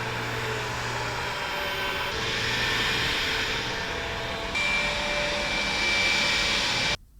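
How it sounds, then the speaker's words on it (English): A Dreame Bot L10 Pro robot vacuum runs with a steady, whooshing motor hum that shifts level twice as it steps through cleaning modes, growing louder and higher with each setting, then cuts off abruptly near the end. "The vacuum is fairly quiet in most cleaning modes and only gets really loud in turbo mode."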